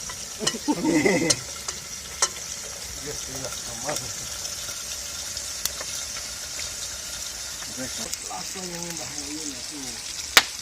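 Steady, faint sizzling of food frying in a pot, cooked outdoors at the bottom of a ravine, with occasional clinks of a utensil and a voice speaking briefly over it.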